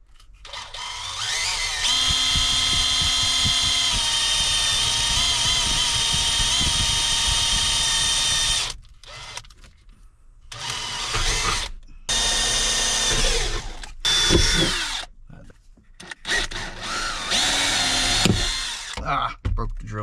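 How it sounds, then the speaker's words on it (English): A power drill bores small pilot holes while a battery relocation tie-down is installed in an RX-7, a loud steady whine running for about eight seconds, then shorter bursts of drilling broken by pauses. "first thing we're gonna do is just drill the little pilot holes"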